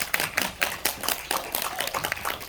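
Audience clapping at a film screening Q&A in a small indie theater, a brief burst of scattered handclaps with uneven rhythm, moderately soft and heard alone without talk.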